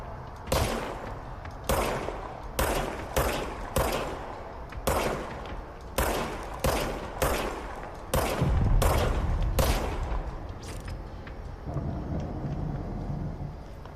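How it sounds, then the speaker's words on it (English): Gunshots from a firearm in the video game Control, about a dozen loud single reports in a steady, evenly spaced rhythm, each with a short decaying tail, then a rumbling burst and quieter shots trailing off. "now I have a gun"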